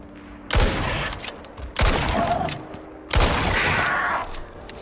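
Gunfire in the Icarus survival video game, three heavy booming shots spaced over about five seconds, each with a long rumbling decay, fairly close and with no speech.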